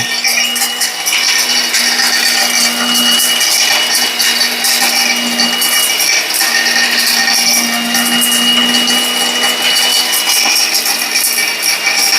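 A Niyama multi-function electric grinder mincing meat, a loud continuous high-pitched motor whir with grinding rasp that holds steady for the whole stretch, close and alone without speech.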